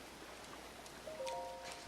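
Steady, soft rain hisses in the Lanayru region of Zelda: Breath of the Wild, a faint even wash with a few brief tonal game chimes partway through.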